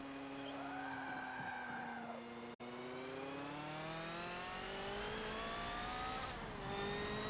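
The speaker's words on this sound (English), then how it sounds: "Hard braking, heading into the Michelin chicane" A race car in a Le Mans racing game brakes hard into the Michelin chicane, its engine note dropping and whining steadily with a brief cut, then climbing again as it pulls away.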